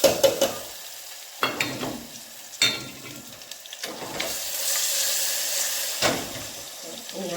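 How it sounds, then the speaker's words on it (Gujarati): Cumin seeds hit hot oil for a Gujarati tempering before a potato and brinjal curry, giving a loud sizzle with repeated bursts and a sustained frying hiss, a few clatters of a spoon between. "જીરાનો વઘાર કરશું."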